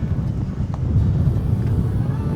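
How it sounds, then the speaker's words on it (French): Steady low rumbling wind buffets the microphone on the coast of Île de Batz, Brittany, a dense continuous roar with no pauses. "Le vent"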